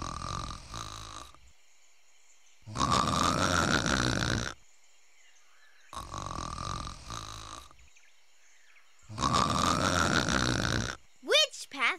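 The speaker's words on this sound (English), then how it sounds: "need to follow the loud snore." Cartoon sleeping sloth giving loud snores, three drawn-out rasping snores with pauses between them, close and exaggerated, followed by a short high whistle.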